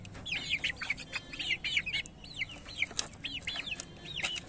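Chickens clucking in a coop, a run of short, repeated calls in quick succession, moderately near but fairly quiet, with no talk.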